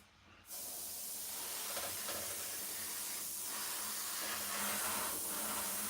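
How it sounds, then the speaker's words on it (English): An airbrush sprays paint onto a Class 31 model train locomotive during weathering, a steady close broadband hiss that starts abruptly and holds evenly to the end. "Keep the airbrush moving, do not let any runs create"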